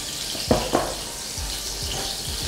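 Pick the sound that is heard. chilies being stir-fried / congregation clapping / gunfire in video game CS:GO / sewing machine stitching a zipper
chilies being stir-fried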